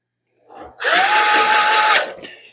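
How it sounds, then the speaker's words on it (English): A power drill drives screws into an LG dryer panel, with a brief trigger blip and then a close, loud whine that holds for over a second before winding down, followed by a short second burst. "I'll put a couple screws into that."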